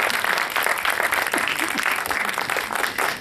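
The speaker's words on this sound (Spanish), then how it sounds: "un aplauso para ellos" Congregation in a church service applauding visitors, a dense steady wash of clapping from many hands throughout, fairly close and loud with no talk over it.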